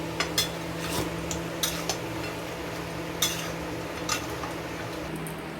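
Mutton curry gets stirred and fried in a pan, with soft steady frying under several sharp clinks and scrapes of a spoon against the pan at irregular intervals.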